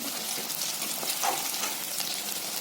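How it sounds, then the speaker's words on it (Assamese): Onions frying in a pan for an Assamese pork curry give a dense, even hiss at close range, with faint stirring under it and no voices. "পিঁয়াজটো অকণমান টাইম আপুনি লৰাই দিব"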